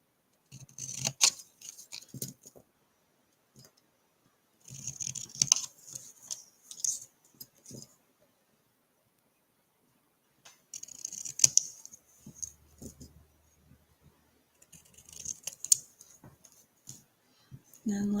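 Sharp snipping clicks of scissors come in short bursts separated by pauses, close and crisp, with a few quiet pauses between trims.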